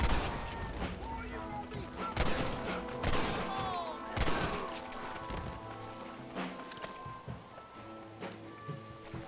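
Gunfire in Red Dead Redemption: a dense fusillade of sharp shots cracking out in quick bursts, mixed with rain and horse hooves, with a player's voice talking over the action.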